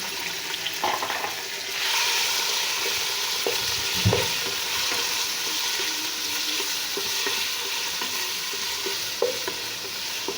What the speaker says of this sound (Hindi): इसमें ये जो चिकन वो डाल देंगे और इसको 2-3 मिनट भून लेंगे अच्छी तरह